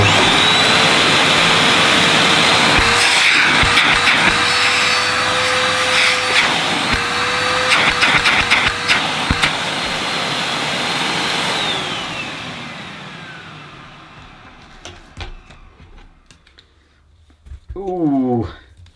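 A Hoover T135PS 1300 watt bagged cylinder vacuum cleaner runs with a loud, steady motor whine and rushing air, with some clattering. It then winds down and fades near the end before a voice speaks briefly.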